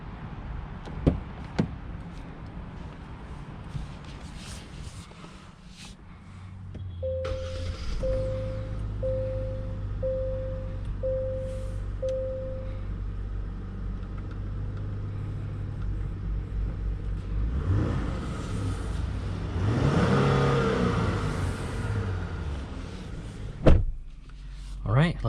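Interior of a 2022 Genesis GV70 compact luxury SUV setting off: a door thumps, a run of short electronic chimes sounds, then a steady low engine rumble and road noise build, with a swell of louder rolling noise near the end and talk over it.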